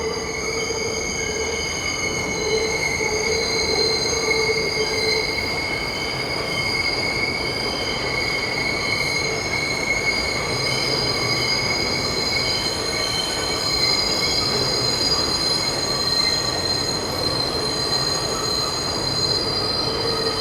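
A New York subway train heading to Manhattan from Long Island City, Queens, passes with loud, sustained high-pitched wheel squeal over a rumbling roll and faint clatter, continuous for about twenty seconds without talk.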